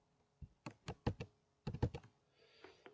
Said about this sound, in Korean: 이 마우스의 소리가 좀 나죠.